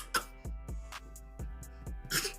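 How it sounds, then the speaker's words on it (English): A baby makes a few short throat-clearing grunts and a sharper rasp, close by, in a quiet room. "You clearing your throat."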